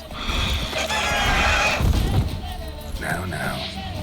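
A horse in The Witcher 3 game snorts and whinnies amid thudding hooves and clattering movement, fairly loud and close, with a voice talking over it.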